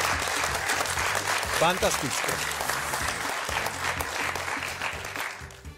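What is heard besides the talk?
studio audience applause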